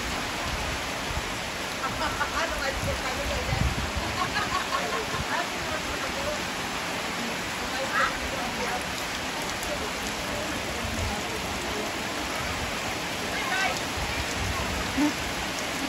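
Steady rain pours down in a dense, continuous hiss, with scattered drips and patters on surfaces throughout.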